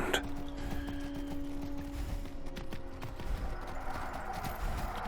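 Horses' hooves clip-clop at a steady walking rhythm in the video game Skyrim, moderately near and continuous, over a faint tonal game background.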